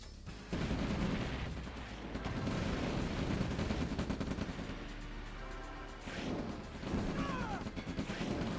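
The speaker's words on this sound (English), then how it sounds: "now has his own turret. So he will start shooting down harvesters from Blacken as well" A turret in a strategy video game fires on harvesters, producing busy bursts of gunfire and impacts that rise and fall in waves over a layered game soundscape, with no voices heard.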